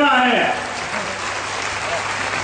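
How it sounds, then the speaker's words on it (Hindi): An audience claps at a Swaminarayan centenary festival, a dense burst of applause under a voice at the start that carries on steadily and fairly loud for a couple of seconds. "सबसे ज्यादा ताली उनके लिए हमको बजाना है।"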